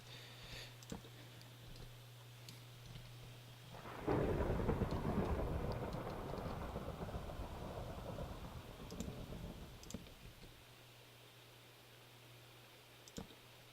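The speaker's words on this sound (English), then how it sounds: "Ooh, stormy out there." Thunder rolls in a Minecraft storm, a deep rumble swelling suddenly and then fading slowly over several seconds amid steady rain hiss, with faint clicks scattered through it and no voices.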